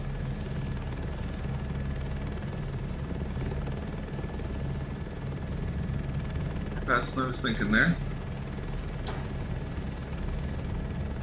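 Helicopter in Microsoft Flight Simulator 2024 during virtual-reality crop dusting, a steady low rotor and engine drone throughout, with someone briefly talking over it.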